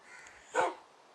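A single short dog bark from a dog in Minecraft, fairly faint, over a quiet background hum.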